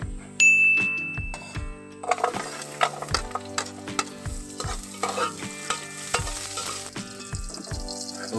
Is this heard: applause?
no